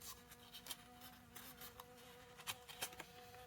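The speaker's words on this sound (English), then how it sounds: "Can you hear that buzzing? I think it's a wasp" A wasp buzzes faintly indoors during a quiet paper-crafting session, a thin, steady insect drone with brief louder flutters as it moves about near the microphone.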